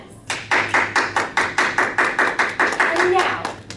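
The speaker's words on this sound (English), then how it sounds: "Everyone, please, let's give them one more warm round of applause." Applause from an audience at a celebratory gathering, a round of roughly a dozen distinct, evenly spaced claps in quick rhythm, fairly close and clear, tapering off toward the end.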